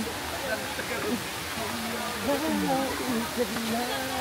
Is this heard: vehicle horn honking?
no